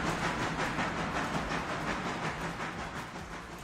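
Train shunting in a railway simulator game, a steady loud rumble of rolling stock with a faint rhythmic clatter and hiss, continuous throughout, no voices.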